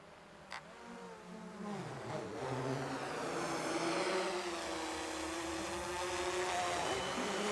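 A drone flying over an autumn landscape in Utsjoki, Lapland, gives a steady, continuous droning hum that swells slightly and holds at a moderate level throughout, with one brief click near the start.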